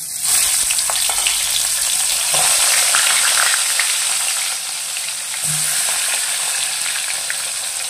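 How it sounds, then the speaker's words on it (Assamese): Pieces of raw banana frying in hot oil give a steady, close sizzling hiss that stays fairly loud throughout, with a few soft bumps from the pan and no talking. "আৰু বাকী থকাখিনি এতিয়া ফ্ৰাই কৰি ল'ম"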